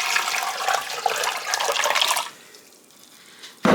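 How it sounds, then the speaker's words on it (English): Very hot water poured into a pressure canner holding jars on a shelf, a loud splashing gush for about two seconds that cuts off into quiet, followed by a sudden short knock at the end. "I'm gonna pour 8 cups of very hot water into my canner"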